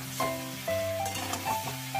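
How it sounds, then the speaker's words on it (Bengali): Soybean chunks, chowmein noodles and pasta fry in hot oil, giving a steady sizzle with stirring scrapes, while tonal hum-like lines run through. "এই তেলের সাথে একবারে সোয়াবিন, চাউমিন, পাস্তা একেবারে দিয়েছি, এর সাথে ভেজে নিচ্ছি।"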